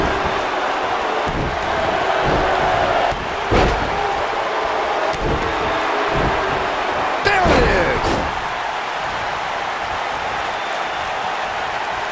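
Kicks landing during an AEW All Out 2019 tag-team wrestling match, Private Party versus Angelico and Jack Evans: a few sharp slamming impacts at separate moments, ringing out over a steady roar of the arena crowd.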